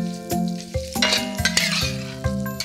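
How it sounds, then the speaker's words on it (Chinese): Pressed dried tofu stir-fried over high heat in a wok with garlic slices, loud steady sizzle broken by repeated sharp metal spatula scrapes and clinks against the pan. "调大火开始炒制香干"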